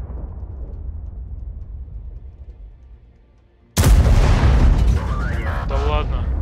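A tank gun fires in the video game World of Tanks from a Waffenträger auf Pz. IV tank destroyer: one sudden loud boom after a quiet engine hum, followed by rumbling reverberation and a voice talking over it.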